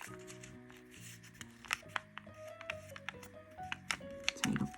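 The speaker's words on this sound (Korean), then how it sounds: "자, 이렇게 대각선으로 접어줍니다." Colored origami paper being folded diagonally for a ring craft: soft, close crinkles and crisp paper taps, quiet, with music playing faintly underneath.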